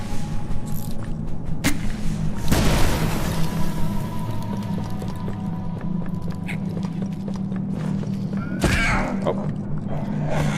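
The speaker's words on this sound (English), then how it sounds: "Shoot liquid nitrogen canisters with a flare to cause them to explode." A liquid nitrogen canister bursting after a flare shot in Poppy Playtime, a sharp loud blast followed by a hissing rush and debris, with game ambience and a second burst later, no talking.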